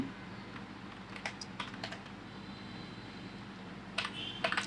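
Quiet computer keyboard typing of an email address comes in short bursts of soft key clicks over a low fan hum, with a busier flurry near the end.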